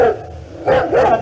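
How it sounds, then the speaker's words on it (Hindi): A pack of fierce wild dogs in a staged drama barks in a loud, close flurry of overlapping yaps and bow-wows, heard as a short, dense burst. "सभी जंगली कुत्ते,"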